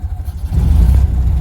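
A Model A Ford engine is started and revved, a short loud low rumble that swells as the revs rise, heard close with no talk.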